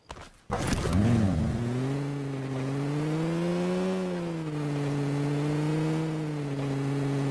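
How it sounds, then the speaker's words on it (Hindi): A vehicle engine drives in PUBG Mobile, starting with a brief burst and then holding a steady, loud droning hum whose pitch rises and falls gently, heard alone and close. "हम गाड़ी लेके यहाँ पे रुकते हैं।"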